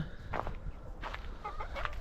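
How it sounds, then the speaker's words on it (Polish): A rooster crowing at a distance, a few faint calls rising over quiet outdoor background noise. "A który tak krzyczy?"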